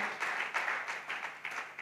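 A church congregation at a Wednesday service claps steadily, a soft, moderately distant patter of hands with rhythmic pulses and no talking over it.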